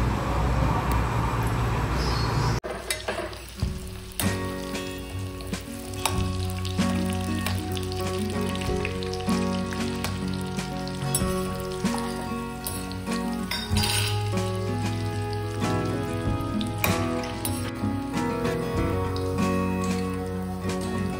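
Marinated chicken fries in hot oil in a kadai with a loud, steady sizzle and crackle. Occasional clinks of a utensil against the pan sound over the background music.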